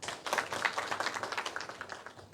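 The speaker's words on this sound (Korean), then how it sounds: "박수 맞아주시기 바랍니다." Audience applause at a citizens' meeting, a fairly quiet patter of many hands clapping, brief and tapering off, with no talk over it.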